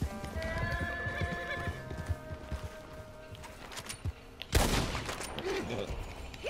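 In the video game Red Dead Online, hooves clatter in a quick gallop and a horse whinnies, followed by a sharp burst of gunfire, all fairly quiet with no talking.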